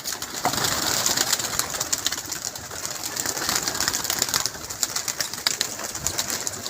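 Pigeons at a pigeon club coo continuously in a dense chorus, with soft throaty calls overlapping and occasional wing flutters, filling the space without talk.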